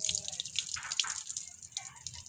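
Water sloshes and drips as rice is washed, a close, uneven run of splashes and trickles with faint voices in the background.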